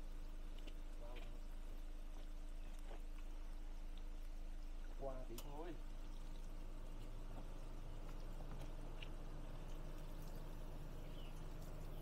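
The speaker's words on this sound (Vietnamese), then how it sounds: "Em điều khiển vòi nước cho nhá." Water runs steadily from a tap while a motorbike is washed, a constant hissing stream that fills the whole stretch at an even level, with a brief voice rising over it midway.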